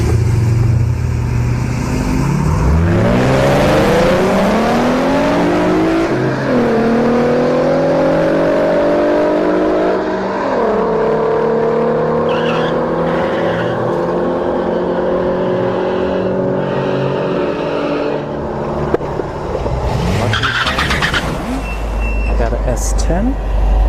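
A BMW X5 35i F15 with stage 2 full bolt-ons and the stock turbo races a Mercedes on a drag strip, engines roaring loudly and rising through gear changes, with a crowd murmuring faintly underneath.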